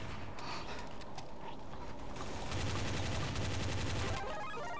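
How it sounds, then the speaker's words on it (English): Gunfire in the video game Counter-Strike: Source, a dense burst of rapid shots filling the latter half with steady loud crackle over game ambience, no talk. "I am shooting you in face!"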